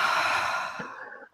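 One long, audible exhale trails off gradually as a group breathes in unison, soft and airy, fading to silence by the end.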